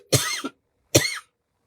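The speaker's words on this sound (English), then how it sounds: "It's just when the coughing starts." Two harsh coughs, close and distinct, separated by a short pause of silence.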